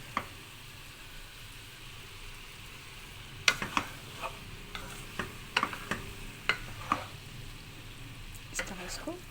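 Chopped garlic frying in a pan over medium flame, a low steady sizzle with scattered clicks and stirring scrapes, fairly faint and close, with no talking.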